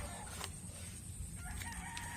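A backyard flock of Rhode Island Red chickens crows and clucks, with a rooster's call rising over steady clucking and a few sharp calls, close by and loud against a low background hum.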